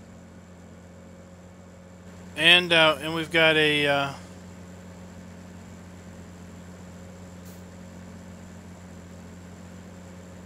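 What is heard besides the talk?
tractor engine idling with shaking exhaust, Farming Simulator 17 video game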